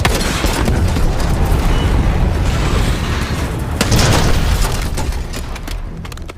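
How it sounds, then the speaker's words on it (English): In a Call of Duty war game, an explosive charge blows up a Scud missile: a loud, sustained rumbling blast with crackling bursts, swelling again midway before slowly fading. "Case, get a charge on that Scud, now!"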